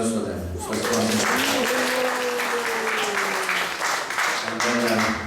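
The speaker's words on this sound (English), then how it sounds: "Let's give a round of applause for them." Audience applause fills a temple hall during an ISKCON Ekadasi kirtan night in Atlanta, a steady loud wash of clapping lasting several seconds, with sustained tonal sounds running underneath.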